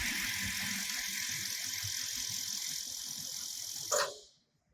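A sewing machine with a motor speed controller runs at normal sewing speed, a steady high mechanical whir that holds evenly for about four seconds before a brief clack and a quick stop.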